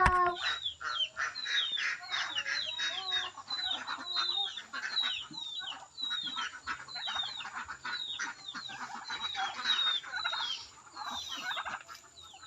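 A flock of chickens and turkeys on a farm calls continuously, with dense overlapping gobbles and clucks forming a busy chorus close by.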